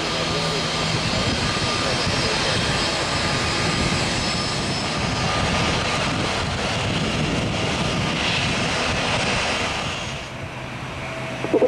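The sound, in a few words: airplane landing or taking off at Salvador airport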